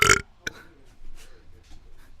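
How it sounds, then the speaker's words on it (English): Person burps loudly and close into a microphone at a card-game tournament, one short throaty belch followed by a sharp tap and quiet background sounds. "just came to burp into the mic because why not?"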